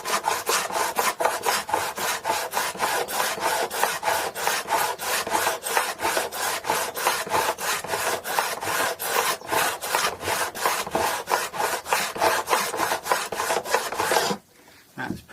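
A file rasps rhythmically across the fret ends of a Daion Gazelle Japanese-made acoustic guitar to bevel them. The strokes are steady, close and even-paced, and they stop abruptly near the end.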